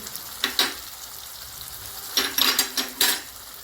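Grated garlic fries in a pan with a low background sizzle, broken by a few sharp metallic clinks and scrapes of a spoon against the pan, close and unaccompanied by talk.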